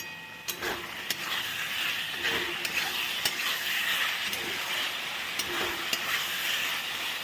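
A spoon stirs chilli chicken sauce made with tomato sauce, vinegar and a little sugar in a pan, steady close scraping with sharp clinks against the metal over a continuous bubbling sizzle.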